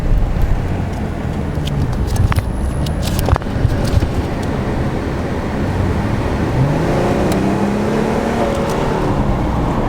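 A base V6 Dodge Challenger accelerates hard, its engine note rising in pitch as it pulls through the revs, heard from inside the car, loud and steady, with a few faint clicks early on.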